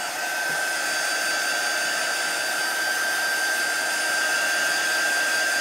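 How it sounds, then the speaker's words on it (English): A small handheld crafting heat tool blows steadily to dry a mixed-media project, giving a loud, continuous whooshing hum with a faint high whine, running unbroken and alone throughout. "I didn't have my cord over here so that I could plug in my little heat tool here. But I am going to dry this for a second."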